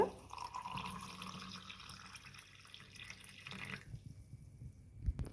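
Water runs and splashes steadily for a few seconds while being poured into a Kerala kulukki sarbath mix, then stops, leaving faint drips and a small knock.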